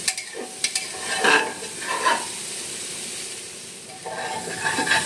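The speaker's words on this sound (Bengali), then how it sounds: "সবজিগুলো বন্ধুরা আমি 5-7 মিনিট ভেজে নেব।" Vegetables frying in a pan for homemade chicken soup, a close hiss and sizzle with bursts of stirring and utensil scrapes against the pan, no talking.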